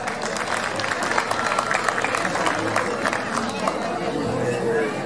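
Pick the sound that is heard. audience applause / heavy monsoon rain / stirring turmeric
audience applause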